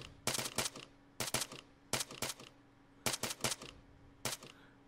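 Bursts of gunfire from the military shooter game Arma 3, fired in quick clusters of two to four shots, repeating about every second over a low steady background hum, with no talk.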